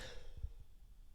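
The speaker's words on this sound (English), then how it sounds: "Sorry, and I have a little bit of a cough today," A single quiet, short cough or throat clearing from a person with a mild cough, close to the microphone, with no talk.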